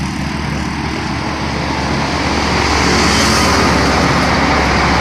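A Hino truck arriving on a road in Pakistan, heard as a loud, steady engine and roadway rumble that swells slightly toward the end, with no talking.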